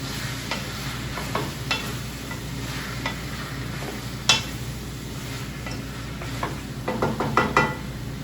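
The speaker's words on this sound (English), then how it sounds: "I'm going to add my potatoes and my pumpkin. I'm going to give that one more stir." Potatoes and pumpkin are stirred in a pot, a steady low bubbling hiss under scattered clicks and knocks of a spoon against the sides, a cluster of quicker taps near the end, no talking.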